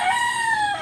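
A chicken crows once, a loud, close, drawn-out call that trails off at the end.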